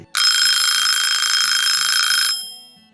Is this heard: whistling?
no